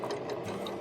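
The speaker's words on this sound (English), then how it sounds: "And now we start sewing it." Sewing machine stitching the fabric of a homemade face mask, a steady close mechanical whir with rapid needle rhythm throughout the short moment.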